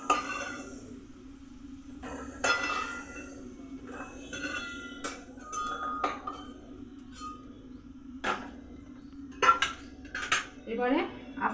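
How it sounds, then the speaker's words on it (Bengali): Red-fried potatoes are lifted from a pan onto a plate, producing scattered metallic clinks and scrapes of a utensil against cookware, close and irregular over a low kitchen hum. "এবার আমি একটা থালাতে আলুগুলো আমি তুলে রাখছি"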